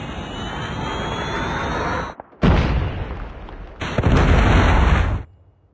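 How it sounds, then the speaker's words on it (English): A Predator missile strike in Call of Duty: Mobile, heard as loud broadband blasts: one sustained roar, a brief dropout, another heavy burst, then a sharp explosive rush before it cuts to near silence. "Friendly Predator missile"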